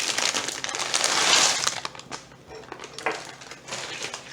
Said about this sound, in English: I am going to add in a bag of frozen corn, sweet corn